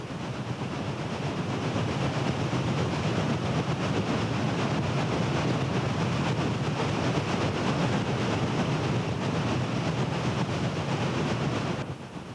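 Chesapeake and Ohio steam locomotive number 2769 near the Blue Ridge Tunnel gives a steady, loud, continuous rumbling roar with a faint rhythmic beat, holding unchanged for about twelve seconds with no voices.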